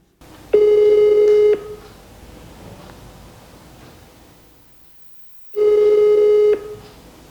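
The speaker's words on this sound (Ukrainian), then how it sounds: "Намагаємося зв'язатись по телефону. Слухавки не бере." A telephone call ringing out unanswered: two long electronic ring tones about a second each, separated by several seconds of quiet line hiss, loud and close.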